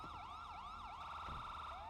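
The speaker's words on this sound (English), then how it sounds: "Holy fucking siren check" A police siren in GTA V NoPixel roleplay wails in a rapid repeating yelp, loud and steady, then switches to a faster warble before rising again, with no voices.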